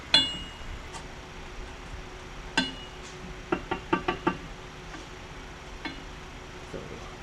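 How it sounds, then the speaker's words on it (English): A hand tool with an extension tightens side gears, giving a few sharp metallic clinks and knocks, one isolated and then a quick cluster of four, close and fairly faint. "Alright, now we just need to start tightening up the side gears."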